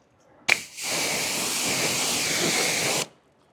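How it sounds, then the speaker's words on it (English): Steady pressurised water spray rinsing the wheel of a rare Mercedes GTR Pro during detailing, a sharp burst at the start and then a continuous loud hiss for about two and a half seconds before cutting off. "We're going to go ahead and rinse the wheel."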